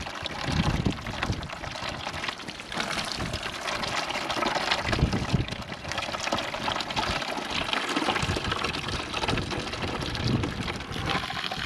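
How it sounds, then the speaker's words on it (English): Water pumped up from a newly dug well gushes and splashes steadily into a bucket, a continuous loud pouring that runs unbroken throughout. "Our first water out of our well."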